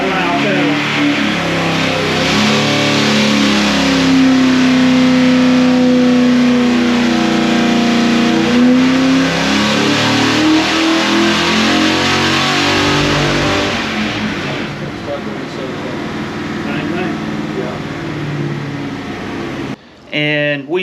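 Chevy 408 small block engine on a dyno revs steadily upward, loud and close with a sustained rising drone, then eases off near the end; the engine was breaking up around 5,700 RPM.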